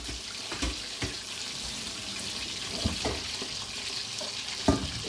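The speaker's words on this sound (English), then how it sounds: "They're already washed, but I'm just gonna wash them again." Running tap water over onion, sweet pepper and carrot at a kitchen sink for an escovitch fish garnish, a steady close splashing stream with brief louder splatters as the vegetables are rinsed.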